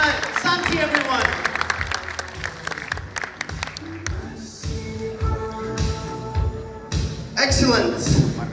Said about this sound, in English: Give Santi a massive round of applause for helping out.